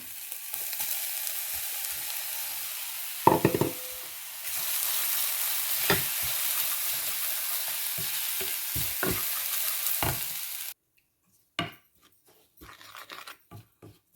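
Thick batter for sweet rolled appam is mixed with grated coconut and cardamom in a bowl, heard as repeated scraping and knocking strokes over a steady hiss that breaks off near the end.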